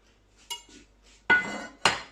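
Pieces of meat dropped into a cooking pot while making harira, heard as three separate clattering knocks against the pot, the last two louder, with near silence between them.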